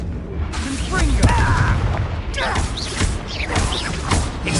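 A Confringo explosive spell is cast during a Hogwarts Legacy duel, with booming blasts, creaking and whooshing spell effects layered among rapid combat sounds and voices.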